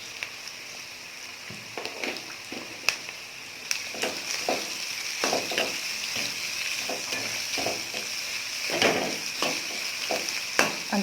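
Onions frying in a pan for a gourd and moong dal curry, a steady close sizzle broken by repeated scraping stirs and light clinks of the spoon against the pan, with no talking.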